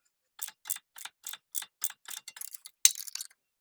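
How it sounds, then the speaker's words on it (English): A caliper compressor tool is worked against the piston of a Hyundai Elantra brake caliper, making about a dozen evenly spaced ratcheting clicks in quick succession, close and crisp in otherwise quiet surroundings. "Now we got to compress the caliper. And the way I'm going to do that is use this caliper compressor."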